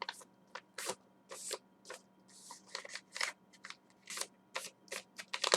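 Paper being folded up by hand, a picture creased into a small bundle, giving a run of close, crisp crackles and rustles in short irregular bursts, quiet and without talk.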